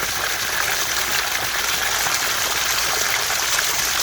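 Dirty pool water gushes and overflows steadily while an above-ground pool sand filter is being cleaned, a loud, continuous rushing and splashing with no talk over it.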